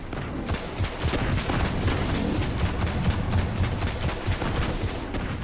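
Rapid gunfire from a servitor enemy in Destiny, a dense, loud barrage of repeated shots and booms that runs without a break for several seconds.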